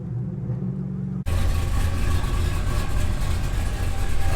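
A cammed 6.0 Silverado pickup's exhaust with an open cutout roars to life abruptly, loud and rumbling, holding a heavy throaty drone after a quieter idle.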